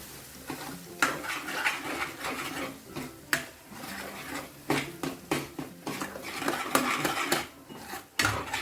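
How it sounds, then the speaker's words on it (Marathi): Masala paste being stirred and sautéed in oil in a pan for a rustic Maharashtrian mixed vegetable dish, with repeated scraping clinks of a spoon against the metal pan over a faint low sizzle. "आता हे छान आपण तेलामध्ये परतत राहूया"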